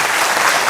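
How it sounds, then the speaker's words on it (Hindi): A hall audience applauds loudly and continuously at a spiritual discourse, with a dense, steady wash of clapping and no voices over it. "अपने लिए जोरदार ताली बजाइए"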